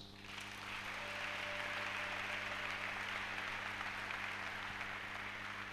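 A church congregation applauding in worship, a steady dense wash of many hands clapping that swells in quickly and holds at an even level, fairly distant and soft, with a low hum beneath.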